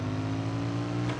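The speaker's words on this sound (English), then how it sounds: "Is that a knucklehead engine?" A Harley knucklehead motorcycle engine in American Chopper growls close and steady in a short burst of revving, its deep throb holding level without a break.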